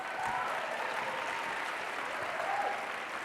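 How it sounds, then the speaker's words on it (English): Applause from an audience, a soft and fairly distant continuous patter of clapping that stays even throughout without talk. "Another round of applause."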